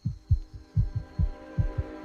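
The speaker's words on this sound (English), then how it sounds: "a heartbeat echoes once more" A deep, thumping heartbeat beats in steady double pulses, about four lub-dub pairs, close and resonant over a low sustained hum.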